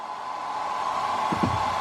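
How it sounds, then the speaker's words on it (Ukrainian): A hair dryer whirs steadily with a constant airy rush and a high whine, with a couple of faint knocks near the end. "От Фен працює, чути."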